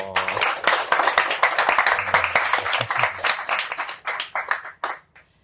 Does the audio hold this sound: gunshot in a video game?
no